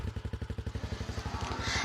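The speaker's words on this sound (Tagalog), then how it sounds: "Sarap talaga i-drive ang bagong motor na ito." A new motorcycle being ridden, its engine putting out a fast, regular chugging pulse that runs close and steady, then blurs into a rush of wind noise at the end.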